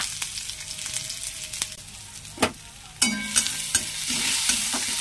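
Chopped onion sizzles in a small amount of oil in a pan for stuffed pointed gourd curry, with a steady fry hiss broken by a few sharp clicks and scrapes of stirring, close and alone.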